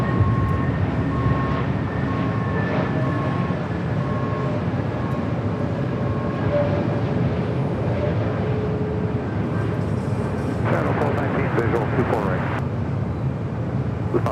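A United A321neo airliner arrives at Los Angeles LAX, a loud, steady jet roar with a faint sustained whine, and radio voices over it.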